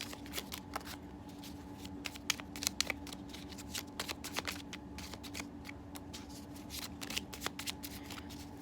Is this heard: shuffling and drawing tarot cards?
yes